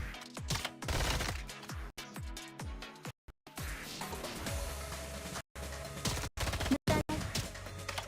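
Video game gunfire comes in rapid repeated shots and bursts with brief drops to silence, moderately loud, with little or no talk over it.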